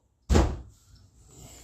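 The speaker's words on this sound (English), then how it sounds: "Shut the door." A door is shut with a single firm, close thud that decays quickly, followed by faint room tone, no voices present.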